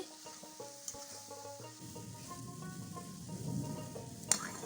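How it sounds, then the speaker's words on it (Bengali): Grated coconut cooking with milk in a pan for narkel naru, a soft steady sizzle with occasional stirring scrapes and a sharp clink near the end, heard under quiet background tones. "একটু একটু করে দুধ দিয়ে নারকেলটা পাক দেবে"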